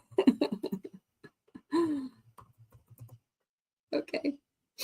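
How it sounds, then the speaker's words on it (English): Keys on a computer keyboard tapped in short irregular bursts of clicks, close and fairly quiet, with a brief vocal sound like a throat clear between the bursts. "Let me type start."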